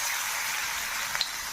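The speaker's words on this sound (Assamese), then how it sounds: "এতিয়া আধা ঘণ্টাৰ পিছত এতিয়া তাক আমি ভাজিম বঢ়িয়াকৈ।" Food sizzles steadily as it fries in a pan, a constant hiss with a couple of small pops near the end and no voices.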